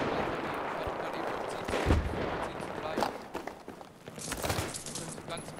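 An AK-74M fires in Battlefield 3, with dense bursts of automatic gunfire and explosive cracks in the game's battle mix, loud and continuous, while a player talks over it.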